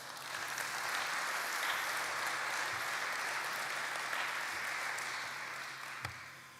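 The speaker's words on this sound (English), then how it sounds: "we all owe them a big round of applause" Sustained applause from delegates at a conference morning meeting, a broad, even wash of many hands clapping that holds steady throughout and tapers slightly near the end, with no speech.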